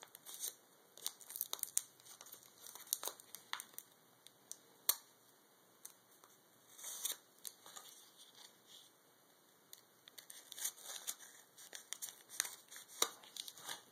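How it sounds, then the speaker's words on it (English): Sticky tape is peeled off a package in a string of quiet, sharp crackles and tearing rips. The sound comes in irregular bursts with short pauses between them, and no voices are heard. "Never had so much trouble taking tape off"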